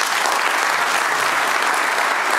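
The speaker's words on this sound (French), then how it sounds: "je crois qu'on peut les applaudir" A large audience at a French Olympic-year launch event breaks into dense, sustained applause, a loud, even roar of many hands clapping without pause.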